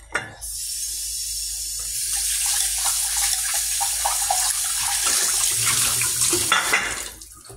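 Tap water runs steadily into a sink during washing at home, a continuous hissing splash that holds for several seconds before easing off, no voices.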